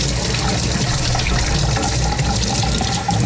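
Tap water gushes loudly and steadily into a sink, rinsing a part from a freshwater aquarium during a water change, with a continuous splashing rush and no voices.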